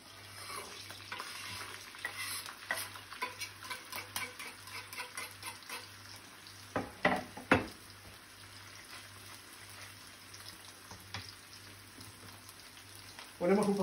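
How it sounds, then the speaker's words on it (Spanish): Half an onion and a quarter of a green pepper fry in oil in a pan, a soft continuous sizzle punctuated by spatula taps and scrapes, with a brief louder clatter near the end. "Y que se vaya sofriendo"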